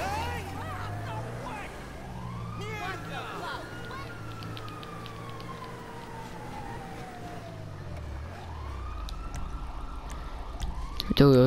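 Police car siren in GTA V wailing up and down in long sweeping cycles over game engine noise and background effects, moderately distant, with someone talking over it.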